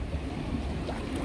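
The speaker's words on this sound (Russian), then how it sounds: "сижу я вот внутри теплой термальной водички, включу гидромассаж" Hydromassage jets churn the warm water of a thermal spa pool in Montegrotto, Italy, a steady, close, broadband bubbling rush with no pauses.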